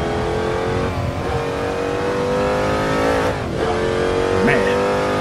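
A 600 hp 1963 Corvette Stingray V8 roars steadily at high revs on the Nordschleife, with a throaty sweep as it accelerates; a voice is faintly present beneath the noise.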